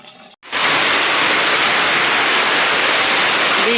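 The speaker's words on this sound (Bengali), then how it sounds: "এই দেখেন, ভালো জোরে বৃষ্টি হচ্ছে" Heavy rain suddenly pours down in Kushtia, a loud, dense, continuous hiss of downpour on surfaces close by.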